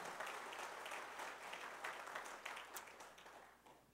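A church congregation applauds during a Sunday service. The clapping is soft and distant, a steady wash of many hands that fades gradually toward the end.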